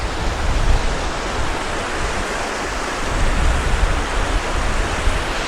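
Water flows steadily over rocks beneath a bridge in Pont-Aven, a loud, dense, unbroken rushing close by with no other sounds standing out.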